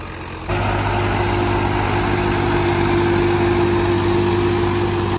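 A tractor engine, stuck under a heavy load, runs steadily at idle, a loud, constant low rumble with a droning hum that starts abruptly and holds without change.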